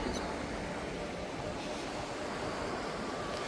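Surf breaking in front of a beach at Phetchaburi, Thailand, a steady broad wash of waves with wind noise over the microphone, continuous and fairly close throughout.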